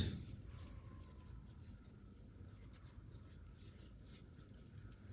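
Faint, quiet scratching of writing on a board during a grammar lesson, a soft continuous scrape with small strokes and no clear talk over it.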